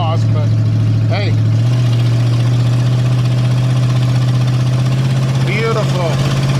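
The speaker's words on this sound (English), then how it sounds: "This is the first time I've used the mic with wide open exhaust" A 1978 Ford LTD Wagon's V8 idles loudly through a wide-open exhaust with a steady, deep throbbing rumble throughout, while a voice briefly speaks over it a couple of times.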